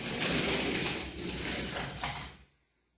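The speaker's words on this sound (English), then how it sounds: "The sliding glass door we have here makes lots of noise." A noisy sliding glass door in need of repair is dragged open with a sustained grinding, scraping rumble that runs for over two seconds, eases briefly midway, then stops abruptly into silence, close and with no talking.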